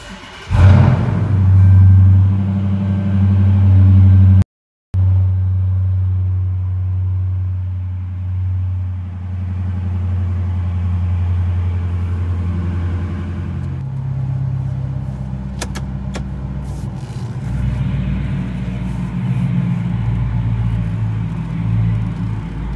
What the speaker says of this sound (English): I'm gonna add some exhaust note clips that I had already did